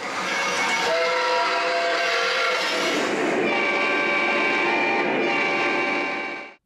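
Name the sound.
model train whistle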